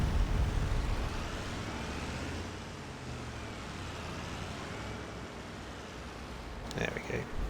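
Truck driving in Farming Simulator 25, a steady low engine drone that starts slightly louder and then holds level, with a short clatter near the end.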